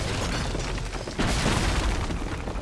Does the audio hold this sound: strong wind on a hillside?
no